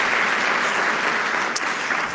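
Conference audience at an investment expo in Botswana gives the fund's chairman a short, dense round of applause, continuous and fairly loud, with one sharper clap near the end.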